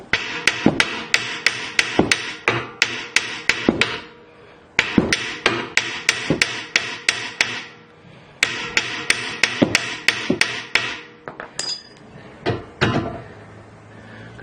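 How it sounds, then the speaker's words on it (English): Repeated metal hammer blows against a car's lower control arm on a Galant/Legnum VR4, loud and close, coming in fast rhythmic bursts of strikes with short pauses between volleys and a few scattered heavier knocks near the end. "This hammer, like I say, it isn't really heavy enough"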